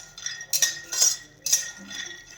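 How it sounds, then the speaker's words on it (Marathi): Peanuts dry-roasting over a low flame in a hot kadhai, stirred with a metal spoon, giving three close bursts of rattling, clinking scrapes with brief pauses between. "एकसारखे शेंगदाणे हलवत आपल्याला एकसारखे शेंगदाणे असे खरपूस होईपर्यंत भाजून घ्यायचे आहेत"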